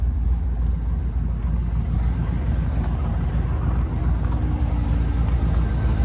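A 1964 Corvette convertible fitted with headers and an MSD ignition idles in a steady, smooth low rumble, even and unbroken throughout, close by with no talking.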